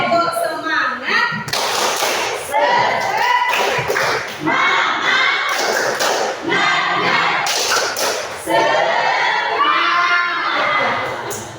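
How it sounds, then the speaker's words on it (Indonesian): A group performs a rhythmic spirit clap, the tepuk semangat, at a school presentation session, with a crowd clapping in patterned bursts, thumping, shouting and cheering loudly throughout. "Boleh tepuk semangat?"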